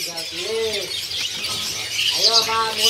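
A caged manyar weaver bird calls in clear chirping phrases, two bursts of harmonic whistles close by, amid background market chatter.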